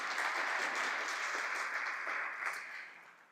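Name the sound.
audience clapping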